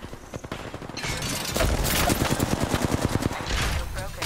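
Rapid automatic gunfire in a battle royale video game, loud bursts of evenly spaced shots that swell after a quieter start, with game voice lines faintly over them.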